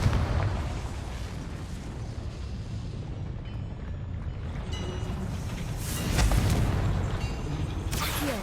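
Confringo fire-blast spell exploding in the Hogwarts Legacy video game: a loud, sustained booming rumble with heavy low-end roar, swelling into a bigger burst near the end.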